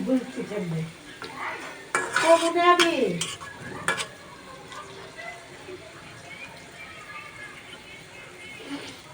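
Onions fry in oil in a pan at the start of a hilsa fish curry, with spatula clatter and a brief voice early on, then a soft, steady sizzle carrying on alone.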